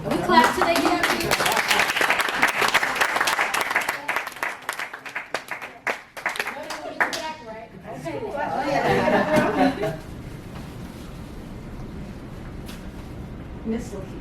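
Applause from a workshop audience, brisk and dense at first, then thinning out into murmured talk and light laughter before settling into a quiet room.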